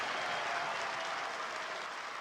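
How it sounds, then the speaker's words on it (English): A darts match crowd applauds a young player from Ipswich, a dense, steady wash of clapping from a large audience that holds for a couple of seconds. "They're standing, they're applauding this young man from Ipswich."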